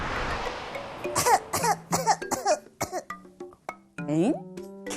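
A person with a cold and fever coughs repeatedly in a quick, close series of harsh bursts with brief gaps, ending in a louder throaty cough.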